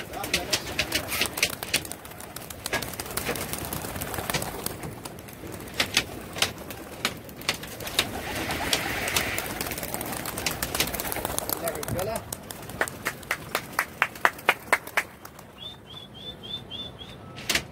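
Pigeons coo and flutter nearby amid a busy outdoor background, with wings flapping in bursts and a person talking throughout.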